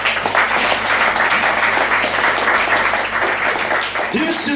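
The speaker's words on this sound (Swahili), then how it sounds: "Pigie Yesu makofi mengi." Congregation clapping in a Baptist church in Mburahati, a sustained dense patter of many hands filling the room, steady and fairly loud, with a voice coming in near the end.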